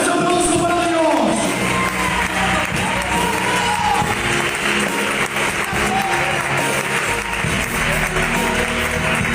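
A church congregation applauds loudly with cheering and shouts, a dense continuous roar of clapping and voices filling the room throughout.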